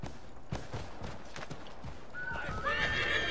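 A horse in the Assassin's Creed 3 video game, its hooves clip-clopping at a walk, then a loud, shrill neigh near the end, no talk over it.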